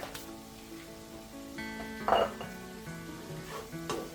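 Steak Diane sauce sizzles in a hot pan while a utensil stirs and scrapes against the metal, a steady bubbling hiss with occasional clinks, fairly close and quiet.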